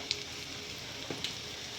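Cumin seeds and asafoetida sizzle in hot oil while being tempered: a steady, soft frying hiss broken by a few light crackles and pops.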